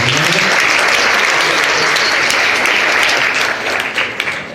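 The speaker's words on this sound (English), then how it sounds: "let's give them all another round of applause" Sustained audience applause, loud and dense, clapping steadily throughout before tapering slightly near the end.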